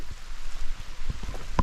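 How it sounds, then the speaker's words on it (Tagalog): Steady rain at a campsite in Norzagaray, Bulacan, a soft continuous patter with a few sharper close taps and a brief knock near the end. "So ayan, lumalakas na yung ulan."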